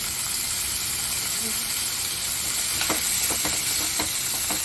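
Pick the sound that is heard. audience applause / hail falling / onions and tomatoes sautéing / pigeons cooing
onions and tomatoes sautéing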